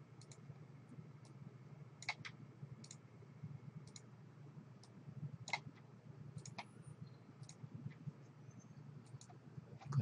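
Faint, sparse mouse clicks while working in an Excel spreadsheet, a dozen or so quiet single and double clicks scattered over a low background hum.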